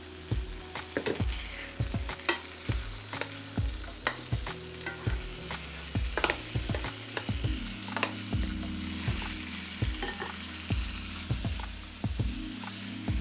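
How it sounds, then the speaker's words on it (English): Pork chops steam frying in a pot produce a continuous close sizzle, overlaid by repeated knocking and scraping strokes of a utensil against the pot at an irregular rhythm. "let it steam fry for 10 minutes"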